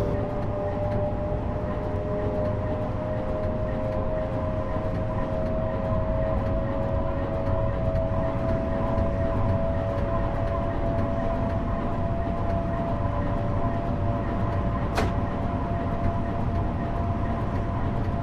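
A Metro-North express train in Train Sim World runs steadily toward Grand Central, giving a continuous rumbling roar with a sustained whining hum and one brief sharp click near the end.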